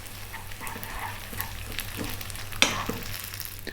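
Garlic butter parmesan spaghetti being stirred and tossed in a hot pan, a steady soft sizzle with faint scraping and one sharper clink of a utensil near the end, no voices.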